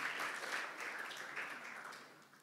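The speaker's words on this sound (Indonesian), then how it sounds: "Tepuk tangan buat mereka dong." Audience applause from a crowd at a youth worship gathering, a steady wash of clapping that holds for a couple of seconds and then slowly fades, fairly faint and without voices.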